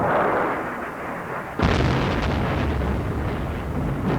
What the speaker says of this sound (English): Huge explosions are heard and buildings are set ablaze in the Iraqi capital